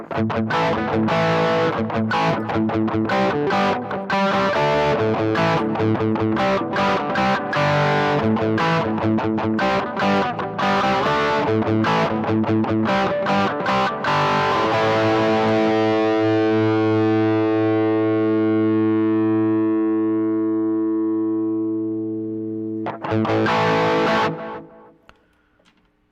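Heavily distorted electric guitar played through a Les Paul, chugging chords for about fifteen seconds, then a long sustained chord ringing and slowly fading, with a brief final burst of strums before it cuts off; no voices.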